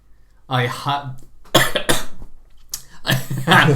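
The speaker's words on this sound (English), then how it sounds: "The lungs just coughed up some dust then." Several harsh coughs in quick bursts from a nearby person, close and loud, separated by short pauses, with vocal sounds between them.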